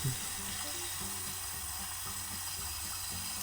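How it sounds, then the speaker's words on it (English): Water runs from a tap in a hotel bathroom at the Homewood Suites by Hilton in Macon, Georgia, a steady hissing flow as the pressure is tested, with faint clattering and low room noise beneath. "I'm going to check the water pressure."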